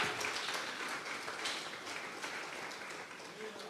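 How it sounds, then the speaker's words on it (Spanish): A church congregation applauding during a Tuesday Bible study service, a sustained dense patter of many hands clapping together, moderately distant and fairly steady throughout. "Vamos a regalarle ofrenda de palmas al Dios de la gloria"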